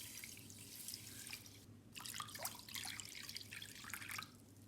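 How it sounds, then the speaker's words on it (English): Filtered water pouring into a pan with flax seeds, a bright splashing trickle in several uneven bursts over a low background hum, close and moderately quiet. "In a pan, add 1/4 cup of flax seeds, along with 2 cups of filtered water."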